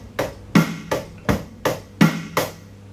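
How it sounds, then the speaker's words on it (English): Drum kit groove with kick on beats 1 and 3 and snare on 2 and 4: seven evenly spaced, punchy hits alternating low thumps and sharper cracks, close and clear with no talk. "kick drum on the 1 and the 3"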